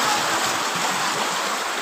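Floodwater from a cloudburst rushes into a village house in a continuous loud broadband roar of flowing water, close and steady throughout.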